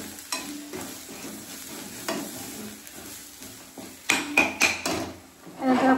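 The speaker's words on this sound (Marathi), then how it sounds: "छानपैकी परतून घेऊया।" A spoon stirs mutton curry in a pan with a steady, scraping rhythm over a low sizzle, and a run of louder, quicker scrapes and clinks comes near the end.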